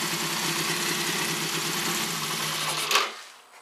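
A 1960s Honda CA77 motorcycle engine idles steadily and close by with a busy mechanical clatter, then cuts out near the end, leaving near silence.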